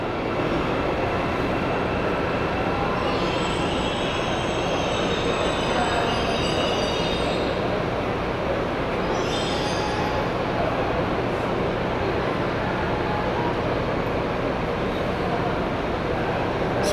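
Train and metro cars rumble continuously through the Barra Funda terminal station, with a loud, steady rolling roar and intermittent high-pitched wheel squeals, close and without talk.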